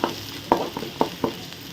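Onions and green chillies sautéing in a pan, with a soft background sizzle broken by four distinct stirring scrapes at a steady, unhurried pace, close and moderately loud, no voices.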